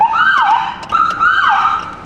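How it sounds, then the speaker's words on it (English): A loud police car siren wailing up and down in two full sweeps, close and continuous, with no voices. "I may do a siren or 2"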